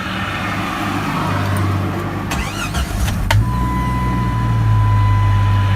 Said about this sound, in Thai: เดี๋ยวผมจะลองสตาร์ทเครื่องยนต์ดูนะครับ